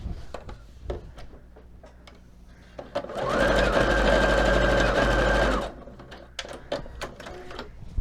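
A sewing machine stitches a pleat down the back of a small doll shirt, a steady loud whirring burst of about two and a half seconds, framed by quiet clicks and handling noises.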